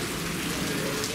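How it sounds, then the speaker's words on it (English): Steady rain pouring outdoors, a dense, loud hiss of drops on surfaces with no pauses, brief and close. "Still wet, still raining"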